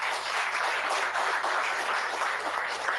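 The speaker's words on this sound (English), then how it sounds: "Let's give Ntsika a big hand of applause." An audience at a matric results announcement gives a sustained round of applause, a dense, even wash of clapping heard from a distance without sharp individual claps.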